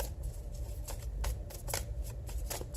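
Tarot cards are shuffled and drawn by hand, making a quiet flurry of quick riffling flicks and soft papery snaps, close up and faint, with no talk.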